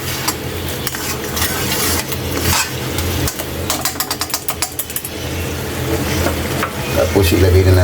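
A tilapia dish stirred in a hot, sizzling pan, with a spoon scraping and clinking against the metal in quick repeated strokes over a steady frying hiss, close up.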